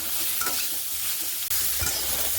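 Ridge gourd pieces added to potatoes already fried with salt and turmeric sizzle steadily in a hot pan, with soft stirring scrapes and no talk.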